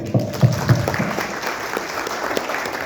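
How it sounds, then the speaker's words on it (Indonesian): Audience applause at a village IT operator training event in Purwakarta, Indonesia: a short burst of clapping with a few louder claps near the start, fading into a steady patter under room noise. "Tepuk tangan lagi."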